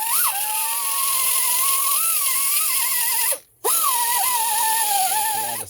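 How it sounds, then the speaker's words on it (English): A custom raw-steel exhaust pipe for a vintage Homelite XL12 chainsaw is polished with a whirring rotary tool, a steady buzzing drone wavering in pitch, cut off briefly once before resuming, close and fairly loud. "just let me do a little more polishing and we'll put her on"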